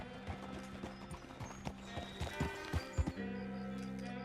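Horse hooves clip-clop at a steady riding pace in Red Dead Redemption 2, close and clear, with a few stronger thumps and a short neigh-like sound near the end, no voices on top.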